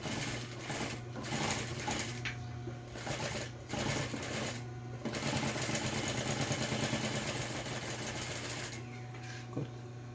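A sewing machine runs steadily, adding an extra seam to make a double topstitch on a multipurpose fabric pencil case. The close, continuous mechanical whir carries a few brief slowdowns and no talking.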